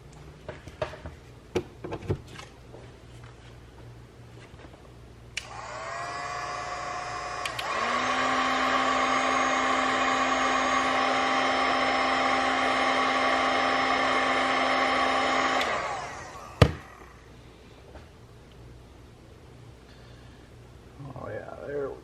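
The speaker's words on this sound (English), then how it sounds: "Heat gun." A heat gun runs during repair of a leaky hose on a Polaris Indy 500 snowmobile, a steady, loud whirring blow that starts up, holds for about ten seconds and then cuts off, with quiet clicks and handling noises around it.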